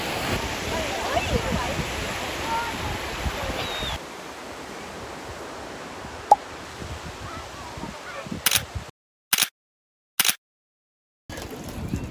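Sea waves wash onto a sandy beach in a steady, close surf roar that softens midway. The sound then breaks into a few brief bursts separated by silences.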